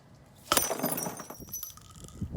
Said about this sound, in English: Yes, it can break glass.